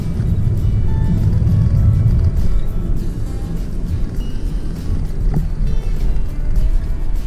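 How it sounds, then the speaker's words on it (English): A Lexus LC 500 Convertible on a Genting hill climb gives a steady, loud engine roar with road and wind rush throughout, heard from inside the moving car. "It kicks down quite loudly. kicks down, it goes vroom, vroom."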